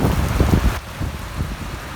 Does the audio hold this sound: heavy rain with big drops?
yes